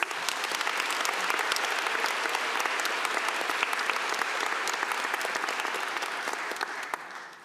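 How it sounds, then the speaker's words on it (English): A large conference audience gives a dense, sustained round of applause for the sponsors team at the EuroPython 2025 closing session. Many hands clap steadily for several seconds before it tapers off at the end, with no voices on top. "big round of applause for the sponsors team"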